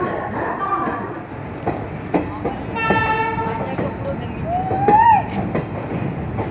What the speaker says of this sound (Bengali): ট্রেনটা আবার ছেড়ে দিল।